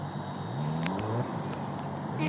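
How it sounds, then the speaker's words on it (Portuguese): A police car in the video game Gangstar Vegas drives with a steady, close engine drone whose pitch rises and falls, with a few faint clicks and no talking. "Aquele barulho de carro de polícia, carro de polícia é mesmo."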